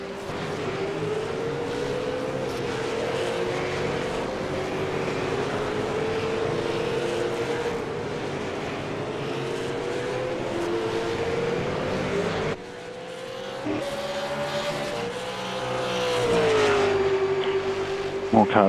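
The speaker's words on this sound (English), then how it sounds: "More cars pitting now." V8 Supercars racing at Monza in a sim racing game, engine drone steady and loud throughout with a rising whine near the end, someone talking over it.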